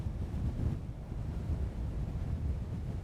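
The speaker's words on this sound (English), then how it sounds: "Wow, the wind." Strong wind buffets the microphone on an ocean shore while waves break and surf rumbles, a loud, steady roar dominated by low, blustery noise with no voices.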